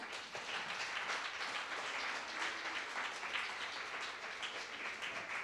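An audience at a public talk applauds the actors and actresses, sending up a steady, continuous patter of clapping from many hands. It sounds fairly distant and soft, and no voices come through over it.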